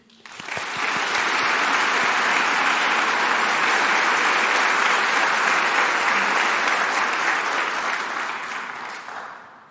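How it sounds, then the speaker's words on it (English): Sustained applause from a large audience at a university convocation and state-of-the-university address, swelling quickly, holding steady for several seconds, then tapering off near the end. "Let's give a round of applause to these leader groups."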